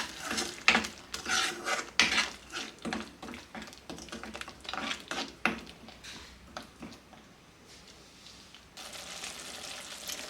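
Spoon clinking and scraping in a pan while capsicum curry with garam masala is stirred, a run of sharp close taps that thins out, then a quieter steady simmer.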